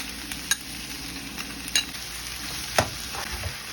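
Onion and garlic sautéing in a pan for Bicol express, a steady soft sizzle broken by a few sharp spatula scrapes and taps, close by with no talking.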